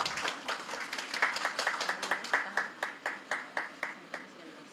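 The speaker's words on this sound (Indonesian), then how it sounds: "Boleh kita berikan tepuk tangan sekali lagi?" Applause from the crowd at an Indonesian state loss money handover ceremony attended by President Prabowo Subianto, a sustained round of many hands clapping that thins into distinct, evenly spaced claps toward the end.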